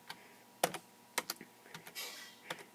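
Someone types a terminal command on a Raspberry Pi computer keyboard, with a handful of quick, quiet key clicks in an irregular rhythm, close and alone.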